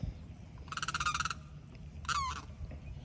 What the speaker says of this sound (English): That's a Limpkin, and they're loud as hell.